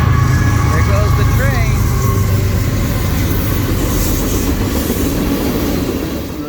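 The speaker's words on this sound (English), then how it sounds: "I can hear the engine revving over here, so we are technically at a railroad stop here in McGhee." A freight train rumbles loudly past a railroad stop in McGhee, Arkansas, a continuous close heavy roll with faint squealing tones, fading slightly at the end.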